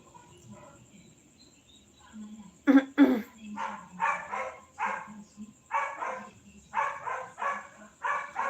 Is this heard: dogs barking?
yes